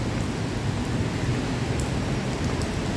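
Steady, dense rainfall pouring outdoors in the city, a continuous loud hiss of drops with no voices.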